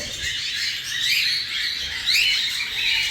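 Gamefowl chickens calling at a fallow-and-pair breeding yard, a steady chorus of chirps and squawks continuing throughout, fairly close and fairly loud, with no talk.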